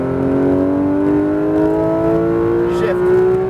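A Porsche GT3 RS accelerates on a racetrack, its engine note climbing steadily under a constant loud roar, with a brief rise in the sound near the end.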